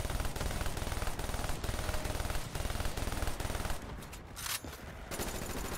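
Rapid bursts of PPSh submachine gun fire in a Call of Duty Black Ops 3 custom Zombies map, loud and close, nearly continuous with a brief lull before firing resumes.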